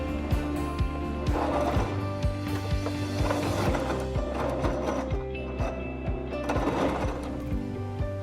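Sewing machine stitching elastic into a skirt made from a men's button-up shirt, running steadily and close with a rapid, even mechanical chatter that pauses and restarts briefly, no voices.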